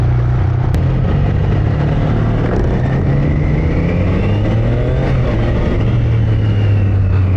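A Triumph Daytona 660 motorcycle engine pulls hard under acceleration, loud and close, its steady rising drone shifting pitch through a gear change as it climbs, with constant road and wind roar beneath and no talking.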